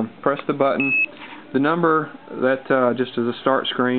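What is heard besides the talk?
electronic device beeping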